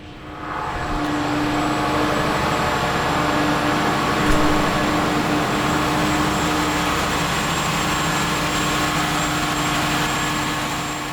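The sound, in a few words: yacht engine room with two Caterpillar engines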